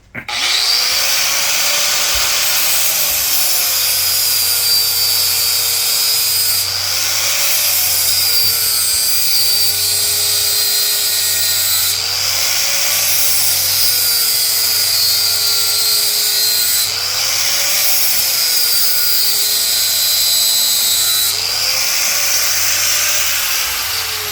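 An angle grinder squares up a high corner on an anvil hardy hole tool converted from a ball, grinding loudly and continuously with the pitch dipping and recovering in repeated passes as the disc bites into the steel.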